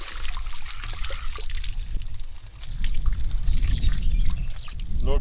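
Water pours and trickles steadily from a roadside fountain spout in Turkey close by, growing louder and fuller partway through.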